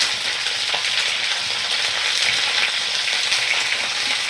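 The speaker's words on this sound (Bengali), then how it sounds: "ফুলকপি আর আলু সুন্দর করে আমি ভাজা করে নেব।" Cauliflower and potato pieces frying in a pan of hot oil, with a steady, dense sizzle that stays fairly loud and close throughout and never lets up.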